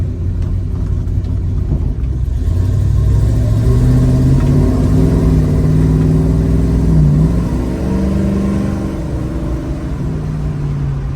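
A 1972 Dodge Challenger's engine and exhaust rumble loudly and steadily while it drives on the road, the deep tone rising and falling slightly as the car changes speed.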